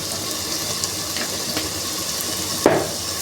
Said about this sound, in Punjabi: ਇਹਨਾਂ ਨੂੰ ਪਿਆਜ਼ ਥੋੜਾ ਜਿਹਾ ਛੇਤੀ ਭੁੰਨ ਹੋਏਗਾ